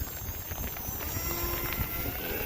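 Gusty wind buffets the microphone outdoors at a Hobbyzone Aeroscout S model plane flying session, in a rough, continuous rumble with faint engine-like hum underneath.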